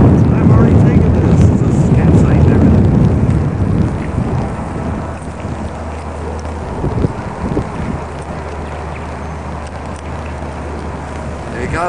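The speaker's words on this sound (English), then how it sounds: "The wind is blowing." Strong wind blows outdoors on a chilly day at Myrtle Beach, a loud steady rush buffeting the microphone that eases somewhat after the first few seconds, with faint low rumbling beneath.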